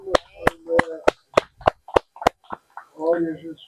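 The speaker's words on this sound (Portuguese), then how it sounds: "Palmas para Jesus." About nine slow, loud, evenly spaced claps ring out alone at a church Bible school gathering in Brazil, followed by a brief burst of voices.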